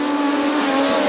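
Midget race cars roar around a dirt oval at a POWRi National Midget League race at Bubba Raceway Park, a loud, continuous high-pitched engine wail that fills the air without letup.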